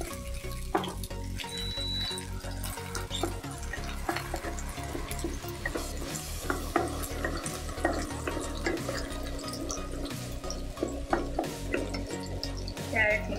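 Spring onion whites stir-fry in a pan for chicken fried rice, with a constant crackling sizzle and frequent clinks and scrapes of a spatula against the pan throughout.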